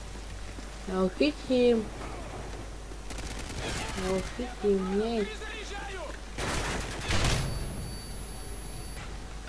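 Bursts of rapid gunfire in the PC video game Call of Duty Modern Warfare 3 come in a few short volleys over a low background hiss, while a player speaks between them.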